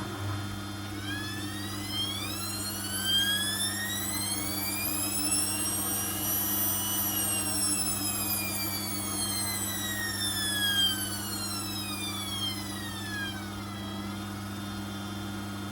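A Hoover WDYNS654D vacuum cleaner motor runs steadily and loudly throughout, a constant low hum beneath a whine that rises and then falls in pitch.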